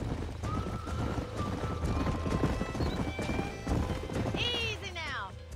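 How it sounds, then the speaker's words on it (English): Horses in the Western video game Red Dead Redemption clip-clop steadily on the ground, with a loud whinny near the end, while people talk over the hoofbeats. "These are fine horses."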